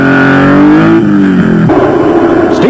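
A Nissan Hardbody off-road race truck revs hard and close, its engine note climbing and then shifting, with a rough, loud roar that persists through the clip.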